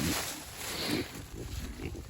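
Sows let out of breeding pens to clear woodland shuffle and grunt in low, rough bursts, with steady rustling and movement noise close by.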